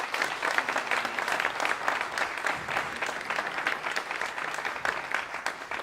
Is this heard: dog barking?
no